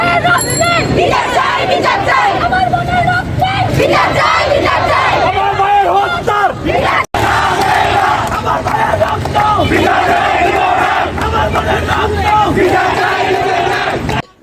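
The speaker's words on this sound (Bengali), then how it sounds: "অ্যাপ্রন গায়ে দিয়ে ছাত্রছাত্রীরা স্লোগান দিতে থাকে যে তাদের দাবি একটাই কোটা সংস্কার চাই" Medical students in aprons chant slogans at a peaceful quota-reform rally in front of a medical college hospital, a loud, dense crowd of voices shouting in unison almost continuously, with a brief break midway.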